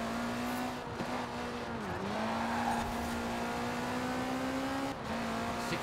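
Lamborghini Huracan racing in Forza Horizon 4, a steady high engine drone holding one pitch with brief dips at gear shifts, loud and continuous with no talking.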